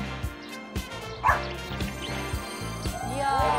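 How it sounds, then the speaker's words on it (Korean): A dog barks a few short times in a rural Korean village, the yaps sharp and fairly near, mixed with people talking and a little background jingle. "개가 짖는데요"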